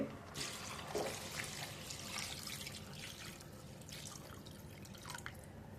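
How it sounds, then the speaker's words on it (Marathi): Water splashes and trickles steadily into a pot of chicken pulao nearby, a soft continuous pour with faint drips. "मी पाणी टाकते"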